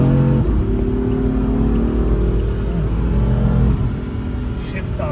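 A BMW M4 in fourth gear and M1 mode pulls hard with a loud, steady engine roar that holds for most of the clip before easing off near the end, with a voice briefly heard over it.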